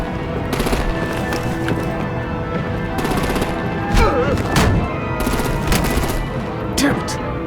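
Rapid machine-gun bursts and heavier booming artillery fire loud and close in a combat scene from the video game Batman: The Enemy Within, dense with overlapping shots and game effects.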